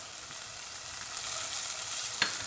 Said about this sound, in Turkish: Tekrardan biberler de kavruluncaya kadar güzelce kavuralım.